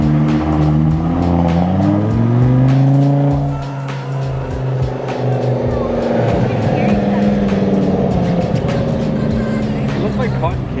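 A Porsche Taycan electric car drives with rising and falling tonal whines and road and tire noise, fairly loud throughout, while voices talk over it.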